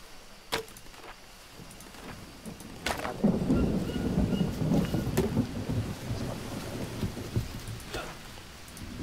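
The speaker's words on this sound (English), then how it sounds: "Guys, it's raining." Rain and thunder in the jungle survival game Green Hell: steady rainfall patters while thunder rumbles and swells, with a few sharp cracks standing out.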